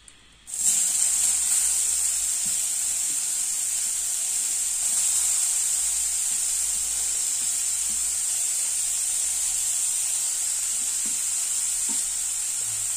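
Grated raw papaya dropped into hot oil for chutney, setting off a sudden loud, steady sizzle that holds evenly at close range, with faint stirring scrapes underneath and no talk.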